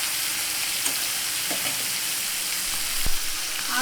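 Fish frying in hot oil in a home kitchen, a steady close sizzle with soft crackles and a brief knock of a utensil near the end, no talking.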